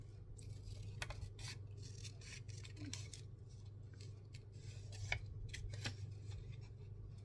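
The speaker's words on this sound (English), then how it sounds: "So I'm going to use this butterfly. I'm just going to fussy cut that" Scissors snipping around a printed paper butterfly for a Stamperia Wonderland journal, giving quiet, irregular crisp cuts close up over a low room hum.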